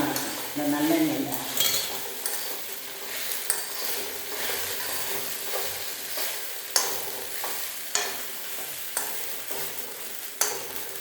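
Frying in sesame oil over low heat gives a continuous gentle sizzle, with a spoon stirring and scraping the pan at intervals, close by.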